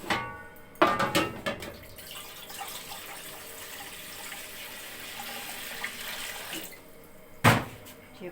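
Water pours into a cooking pot set up to steam-roast a mutton leg: a loud splashing burst near the start, a steady close trickle, and another short splash near the end.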